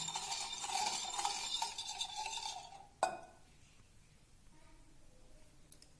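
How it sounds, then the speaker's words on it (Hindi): Milk and spices beaten together in a bowl with a beater for an egg omelette, a steady close whisking and scraping for about three seconds, then a sharp knock against the bowl followed by quiet. "बाउल के अंदर दूध डाल के उसमें आपने जितने भी ये मसाला जात हैं वो सारे डाल देने हैं और उनको बीटर की मदद से अच्छे से आपने मिक्स कर लेना है।"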